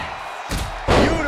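A tandem drop kick lands in a steel cage match of a wrestling video game, giving a loud, sharp slam at about half a second and a second heavier thud near one second, with crowd noise behind.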